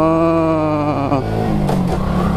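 A small Afaz Kencana Sport 115 motorcycle engine revs steadily nearby, its pitch climbing and then dropping back into a rough, continuous idle.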